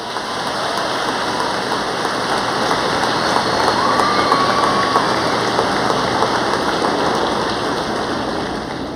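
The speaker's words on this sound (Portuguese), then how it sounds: "Pode aplaudir." Sustained applause from a congregation during a sermon, a dense continuous wash of clapping that holds steady and loud throughout with no speech.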